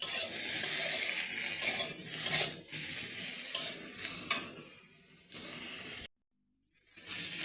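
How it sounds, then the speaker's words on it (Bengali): Cauliflower pieces fry in hot oil in a pan, a steady close sizzle with stirring scrapes and light utensil clinks, cutting out briefly to silence before the sizzle returns. "একটুখানি ফুলকপি ভেজে নিয়ে রেখে দেবো ঢেলে।"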